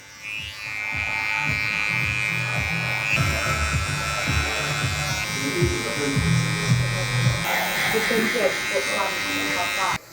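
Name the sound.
electric hair clippers cutting a fade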